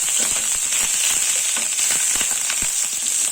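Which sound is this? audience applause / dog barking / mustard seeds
mustard seeds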